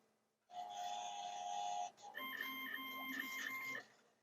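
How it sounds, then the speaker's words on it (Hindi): A bank ATM prints entries into a passbook, a mechanical whirring print head buzzing steadily in two bursts with a brief pause between, close and fairly quiet. "अब ये देखें इधर सारी प्रिंट हो जाएगी"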